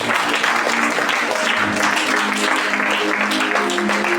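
A church congregation applauds and cheers for the Holy Spirit, steady dense clapping filling the room without pause, with crowd voices mixed in.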